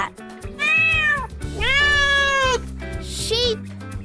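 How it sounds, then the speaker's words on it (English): A cat meows three times in close succession: two drawn-out, loud meows and then a shorter, softer one, with gentle music playing underneath. "Cat."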